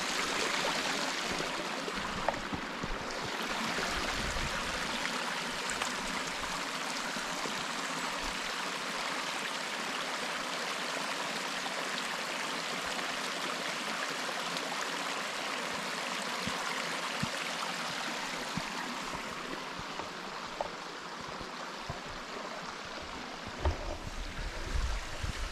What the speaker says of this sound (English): Coming up on a creek crossing, short way into Gale's Trail.